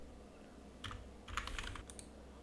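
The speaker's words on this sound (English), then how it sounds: "type here your username and password" A username and password being entered on a PC keyboard, a few quiet, separate clusters of key clicks, close-up, with no speech.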